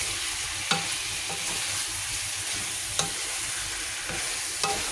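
Chicken sinigang being stirred in a cooking pot, a constant bubbling sizzle with a few distinct knocks of the spoon against the pot, near and unaccompanied by voices.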